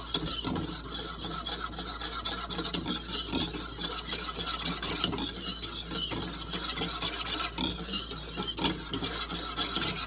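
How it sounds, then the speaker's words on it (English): Whisk scraping rapidly around a bowl of Christmas cookie ingredients, a continuous close rasping churn with a steady rhythm that carries on throughout without a break. "I'm gonna whisk this together right now first"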